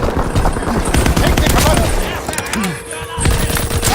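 Assault rifle gunfire in the WW2 video game comes as dense, continuous bursts of shots mixed with battlefield noise, loud and busy throughout, with a voice talking underneath.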